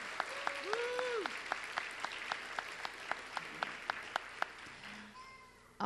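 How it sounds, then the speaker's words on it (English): An audience at a festival ambassador coronation applauds as a steady patter of clapping with a few sharper distinct claps. Voices and whoops rise over it near the start, and a sudden loud sound hits at the very end. "Let's give them another round of applause."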